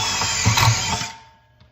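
An impact wrench drives a SuperDrive Mach1 in a short, loud mechanical burst of about one second that then cuts off and fades, heard close with no talk.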